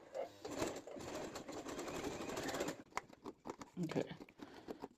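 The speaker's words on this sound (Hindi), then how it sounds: "देखो अच्छे से हमें तीनों साइड से सिलाई लगा लेनी है।" A sewing machine stitches fabric scraps in close, fast bursts, running steadily for a few seconds and then in shorter stop-start runs.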